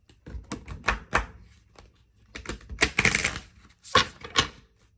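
Tarot cards being shuffled by hand come through as clusters of quick, crisp riffling and tapping bursts separated by short pauses, close up, with no voices.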